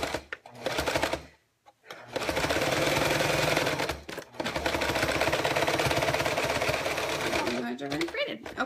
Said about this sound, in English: And continue to sew.